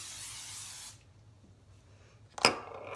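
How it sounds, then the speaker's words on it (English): Cooking spray hisses onto a baking pan in one steady burst for about a second, followed by quiet and a short clatter as the pan or can is set down. "like most baked goods, you're gonna grease a pan"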